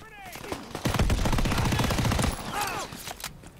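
Automatic gunfire in a World War II shooter game rattles in a fast, sustained burst lasting over a second, loud and close, with game sounds around it.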